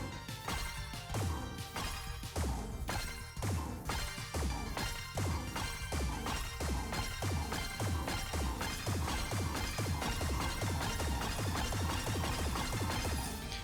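Moonerang attack striking an enemy in the Sea of Stars game, a rapid run of sharp smacking impacts over a steady rhythmic backing beat, loud and continuous with no talking.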